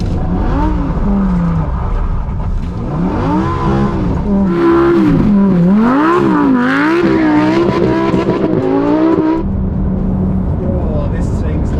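Lamborghini Huracan STO on track laps with traction control off, its engine accelerating and rising through the gears with rapid upshifts, loud and close from inside the car, with a voice talking over it.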